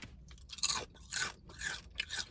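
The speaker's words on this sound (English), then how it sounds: "I love Panera's chips. They're just so good and crunchy." Panera potato chips crunched close up, four distinct crisp bites and chews in a quick rhythm with nothing else over them.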